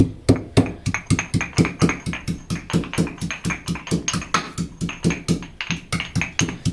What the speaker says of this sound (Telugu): ఒక అంగులో అల్లం ముక్క తీసుకోండి ఇలా ముక్కలు కట్ చేసుకొని